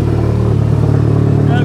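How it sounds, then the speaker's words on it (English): A race car engine running just after a cold start, a loud, close, steady low idle with a rough pulsing throb and no clear revving, while a voice speaks over it. "We're on a cold start for the boys."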